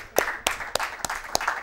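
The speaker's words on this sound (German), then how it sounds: "Da kann man auch mal klatschen." Several sharp hand claps ring out at a steady, unhurried pace, fairly close and alone, from someone briefly applauding while playing the board game City of Brass.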